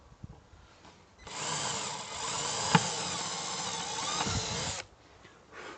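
Power drill fitted with a 4 mm bit boring through a thin plywood board, a steady loud whine lasting about three and a half seconds before cutting off, with quiet handling noise before and after.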